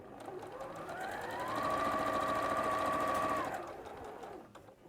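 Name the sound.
sewing machine piecing quilt blocks together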